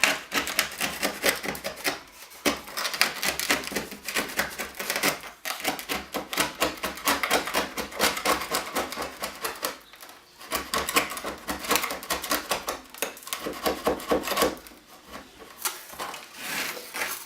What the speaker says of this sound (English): Back with the putty knife.